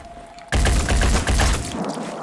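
Rapid gunfire rattles in a Phoenix Point battle, a loud, dense burst of overlapping shots that starts abruptly after a quiet moment and keeps going for nearly two seconds.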